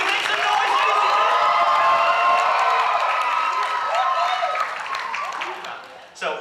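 A live audience at a poetry performance claps, stomps their feet and cheers loudly, with sustained whoops and crowd noise that fades near the end.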